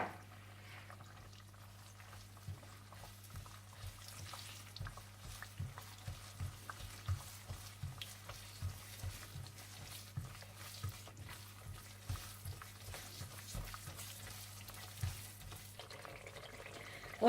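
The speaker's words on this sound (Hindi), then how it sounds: "जब तेल थोड़ा सा गर्म हो जाए तो आप इसमें सूजी डाल दें और इसमें आप पिसी हुई इलायची भी डाल दें और अच्छी तरह से भून लें।" Semolina with ground cardamom roasts in hot oil, a quiet, steady sizzle broken by regular scraping strokes of a spoon stirring the pan throughout.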